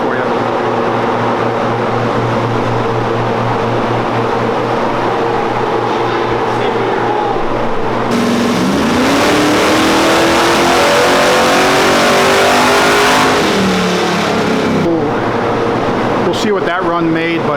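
A drag car makes a nitrous-assisted pass on a single kit, its engine droning loudly before the pitch climbs in a hard, sustained acceleration, then cuts off with a brief tail of revving, heard close and alone.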